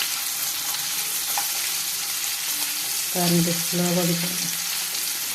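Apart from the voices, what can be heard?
sardine fish frying in a pan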